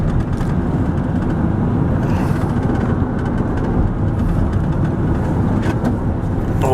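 A car engine revving up as the driver gives it more throttle and the automatic transmission downshifts, a loud, continuous low rumble with road noise heard from inside the vehicle.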